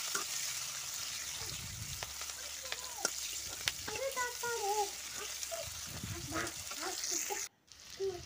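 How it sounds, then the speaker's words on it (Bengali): Dried red chillies, a bay leaf, chopped onion and green chillies fry in hot oil, a steady close sizzle with occasional stirring, while a person talks over it. "কাঁচা পেঁয়াজ আর কাঁচা লঙ্কা দিয়ে দিচ্ছি। তো এগুলি সুন্দর করে লাল লাল করে ভেজে নিব ফার্স্টে।"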